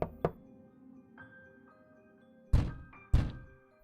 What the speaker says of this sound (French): elle frappa doucement à la porte.